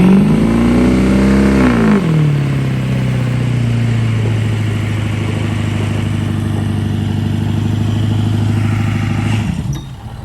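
An unreliable pickup truck's engine revs up, drops as it shifts, then holds a loud steady low drone while accelerating on gravel, close and alone until easing off at the end.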